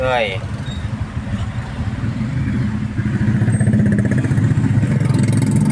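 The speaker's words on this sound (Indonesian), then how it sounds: "terminal macet" Road traffic jammed at a bus terminal in Sukabumi, with a steady mix of idling and revving car and motorcycle engines close by, continuous under people talking.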